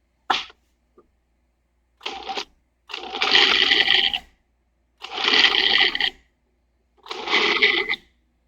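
Food processor pulsing ground meat in a home kitchen, short loud whirring bursts of one to two seconds separated by silence, five pulses in all, close up.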